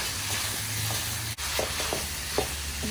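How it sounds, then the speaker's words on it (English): Meat frying in a pan with black pepper for Hmong egg rolls, a steady sizzle broken by stirring scrapes and clacks of a utensil, close and moderately loud with no talking. "You just keep stirring it until the meat is kind of cooked."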